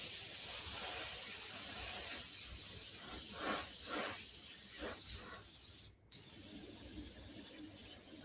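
An airbrush sprays paint onto zombie artwork in a steady close hiss with faint pulsing, briefly cut off once before resuming.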